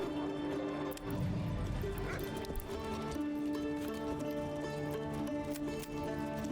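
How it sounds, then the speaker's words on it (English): Horse hooves clip-clop in the medieval city-building game Manor Lords, a steady rhythm of hoof steps over a constant bed of music and game ambience. "We have a horse."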